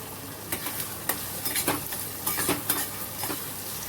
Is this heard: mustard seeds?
yes